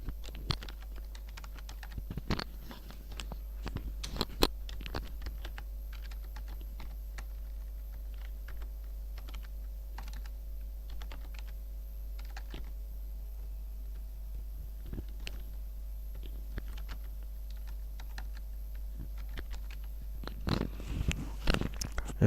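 Computer keyboard typing while filling in a payment voucher in MS Word, with irregular bursts of key clicks at close range, sparse in the middle and denser near the end, over a low steady hum.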